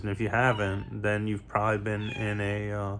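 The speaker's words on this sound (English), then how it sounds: "Yeah, that's my cat in the background." A cat meows in the background of a room, its cries partly masked by someone talking steadily in the foreground.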